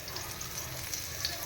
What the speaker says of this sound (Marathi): आणि आता एक एक करून मी तव्यात सोडणार.